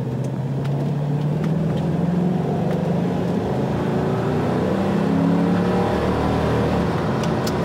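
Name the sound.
SUV accelerating during a test drive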